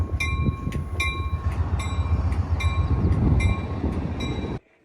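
A train idles at Tequila station with a steady low engine rumble, periodic high electronic tones and chimes ringing out, before the sound cuts off abruptly.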